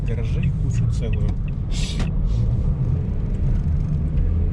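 A car driving past a shop and turning right into a garage area, with a steady low engine and road rumble throughout and someone talking over it.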